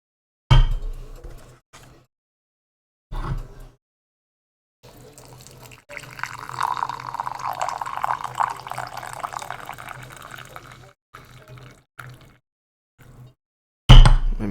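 Water being poured while making coffee at home, a brief splash at first and then a sustained, trickling stream that runs for several seconds before stopping, with short clunks before and after.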